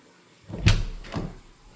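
Newly installed closet doors in a bedroom being converted to a nursery, moved with two knocking, sliding thumps about half a second apart, close and fairly loud, with no talk.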